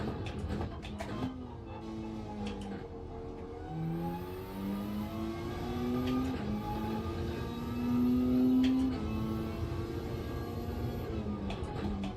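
A race car engine revs hard at the Catalunya circuit, its pitch climbing and falling through repeated surges and gear changes, loud and continuous with a whirring drivetrain note.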